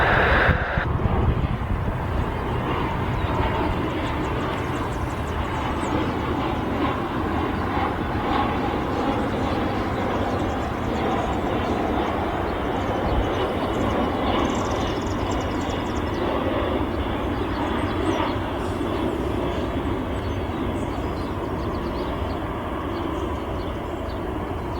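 A Hawker business jet at Cleveland airport gives off a loud, steady engine roar. It holds constant and close for the whole stretch, with no talk.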